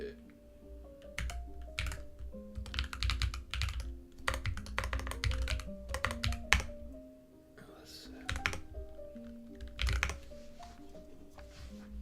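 Rapid clacky keystrokes on a Keychron Q11 split-layout mechanical keyboard, continuous bursts of typing with short pauses, close and fairly loud over low background hum.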